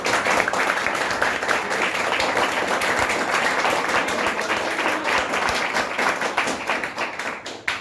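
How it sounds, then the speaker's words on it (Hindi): An audience claps for Vestige at a business gathering, a dense, steady wash of many hands close by that runs the whole stretch and thins slightly near the end. "जोरदार तालियां वेस्टीज के लिए"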